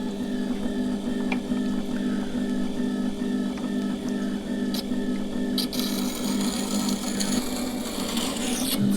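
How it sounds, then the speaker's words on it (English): A small metal chisel has its bevel reground further up the shaft, giving a steady, continuous abrasive grinding rasp that runs without pause throughout and brightens toward the end. "I'm reshaping the chisel and I'm putting the bevel a bit further up"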